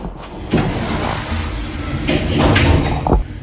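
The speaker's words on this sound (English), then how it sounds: "Doors closing." Train doors close at a recently opened station: a loud sliding rush and thud, with a soft chime-like tone near the end over station rumble.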